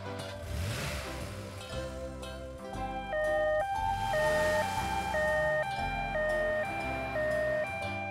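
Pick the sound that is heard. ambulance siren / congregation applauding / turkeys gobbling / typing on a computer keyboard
ambulance siren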